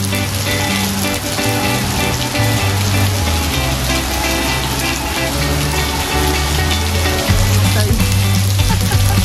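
A heavy summer downpour pours onto a pavilion roof and pavement at VDNKh in Moscow, a loud, dense, continuous hiss and patter with dripping and splashing close by and no speech.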